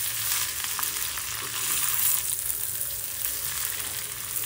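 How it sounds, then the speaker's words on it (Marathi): Maggi chow mein noodles sizzle steadily while being stir-fried and tossed in a pan, a dense bright hiss with soft scraping stirs rising and falling throughout. "सगळीकडून छान असं परतून घ्या. मिक्स करायचं आहे याला."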